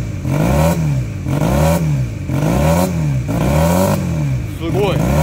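An old motorcycle left unused for 37 years is revved repeatedly, climbing and falling in about five rhythmic surges. The revs are loud and close, and people talk over them.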